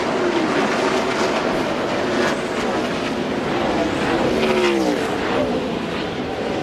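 NASCAR Winston Cup race cars lap Darlington Raceway, giving a dense, steady roar of engines with a few passing whines rising and falling. The broadcast crowd noise stays loud and constant throughout.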